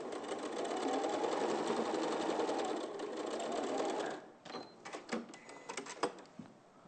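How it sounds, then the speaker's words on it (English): Sewing machine stitching a seam through fabric, a fast continuous whirring rattle for about four seconds, then short stop-start bursts of stitching and mechanical clicks. "you don't need to sew the whole seam, just where the fabric is"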